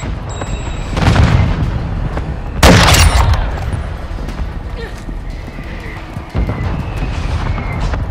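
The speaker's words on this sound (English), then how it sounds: "Friendly mortar strike inbound." Friendly mortar strike explosions in Call of Duty: Modern Warfare II, with heavy booms landing over rumbling gunfire and battlefield noise, one especially loud blast standing out, the whole scene dense and continuous.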